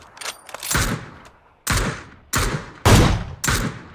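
Gunfire in a Mars-themed shooter video game, four or five sharp loud bursts spaced about a second apart, each decaying quickly.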